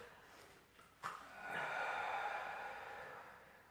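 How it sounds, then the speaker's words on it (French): A deep inhale during a trunk mobility and strengthening exercise, a soft breathy intake swelling after a brief sniff and holding steady for a couple of seconds, close and quiet with no talk. "J'inspire."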